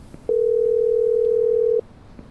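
A steady electronic telephone tone sounds loud and alone for about one and a half seconds while a customer is dialed in the Tailor Simulator video game, with quiet background before and after.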